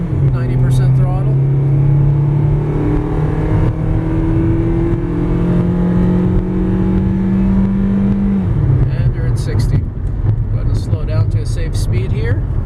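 2008 Toyota Yaris engine accelerating at full throttle, a steady droning tone climbing in pitch then dropping at a gear change, heard from inside the cabin with someone talking over it.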